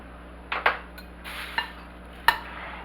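A metal spoon tosses fresh blueberries through flour in a bowl, giving a few soft scrapes and light clinks against the bowl, spaced out over a few seconds in a quiet kitchen.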